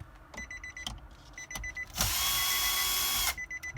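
A power tool, likely a drill or driver, runs a single sustained burst of about a second and a half while removing a bezel screw inside a 2018–2019 Infiniti QX80, with softer clicks and handling noises before and after.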